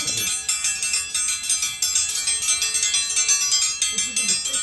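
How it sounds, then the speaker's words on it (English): A dinner bell rings at a monkey park in a Florida rainforest attraction, a bright metallic clang repeating steadily over a few seconds amid outdoor noise, with people talking faintly. "This is the dinner breakfast bell."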